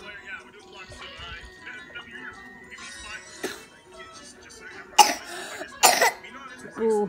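A sick child coughs in a home at night, with several short cough bursts near the five and six second marks amid other faint background sounds.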